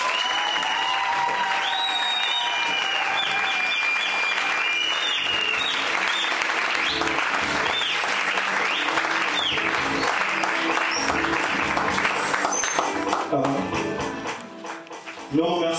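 A church congregation at a pastor's first anniversary service bursts into loud, sustained applause mixed with cheering and whistles, dense and continuous before easing off near the end.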